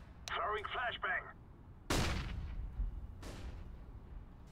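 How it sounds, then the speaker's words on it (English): In a FACEIT Counter-Strike match a flashbang grenade goes off with a sharp loud bang and a ringing tail, followed by a second fainter blast. A short burst of game voice or radio chatter comes before it. "Throwing flashbang."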